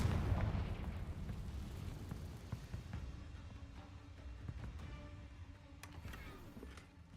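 Repeated Confringo fire-spell explosions in Hogwarts Legacy, a run of booming bursts and pops over a dense rumbling battle mix, loudest at the start and continuing through.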